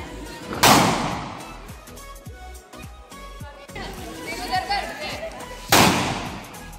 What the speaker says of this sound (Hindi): यहाँ पर अभी दिवाली मना रहे हैं पटाखे जला रहे हैं